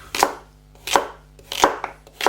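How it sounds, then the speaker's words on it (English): A knife chops vegetables on a board for homemade chicken stock: four crisp, evenly spaced cuts, close and clear, with no voices. "Now, I'm going to get on with the chopping."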